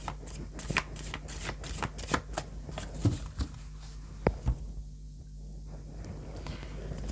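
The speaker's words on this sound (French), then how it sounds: "je vais mélanger" Oracle cards being shuffled by hand, a steady series of crisp riffling flicks and soft slaps close up, with a quiet pause near the end and no talking.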